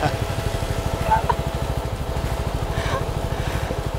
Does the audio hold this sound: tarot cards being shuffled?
no